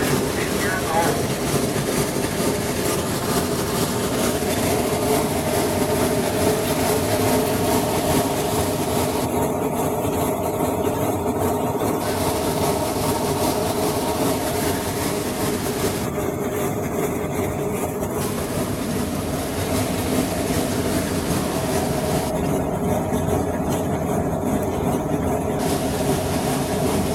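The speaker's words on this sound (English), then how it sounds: "It is also our state locomotive." A Cass Scenic Railroad passenger train in the West Virginia mountains, pulled by a steam locomotive nearly 110 years old, rumbles and rattles steadily throughout while a voice narrates over the running noise.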